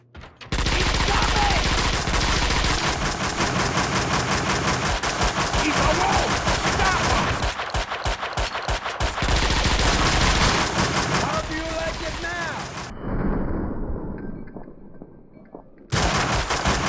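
Wise guys shooting in the video game Max Payne 2: loud, rapid bursts of automatic gunfire hammering almost continuously, with a brief drop-off near the end before the shooting resumes.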